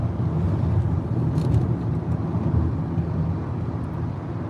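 A 2005 Toyota Camry rolling through traffic, its steady low road and engine rumble droning continuously from inside the cabin with no distinct events.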